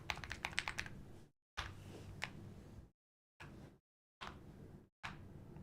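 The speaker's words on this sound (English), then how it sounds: "Do I know what switches my keyboard uses?" Typing on a computer keyboard with switches gives close, quick clusters of clicky keystrokes in bursts, broken by short silent gaps.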